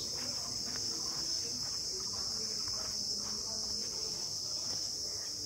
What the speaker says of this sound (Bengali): একটা সেই ঝিঝি পোকা ডাকছে